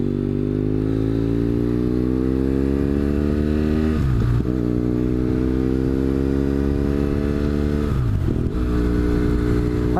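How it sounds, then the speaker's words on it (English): A motorcycle fitted with a Two Brothers exhaust revs up through the gears, pitch climbing steadily and then dropping at each shift, loud and close throughout with a continuous engine drone. "I just put this Two Brothers exhaust on this bike"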